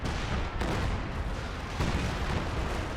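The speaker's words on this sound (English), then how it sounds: "I'm assuming it's British artillery" A British artillery strike in Company of Heroes 2 on the Fields of Winnekendonk map, with heavy, dense blasts and booming impacts filling the clip and sharp bursts standing out above the rumble.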